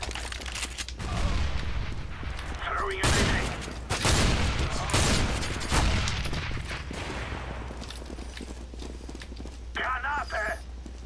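Shotgun blasts ring out in a Counter-Strike: Global Offensive turbo deathmatch gun game, several loud booming shots spread across busy game noise while players chat over the action.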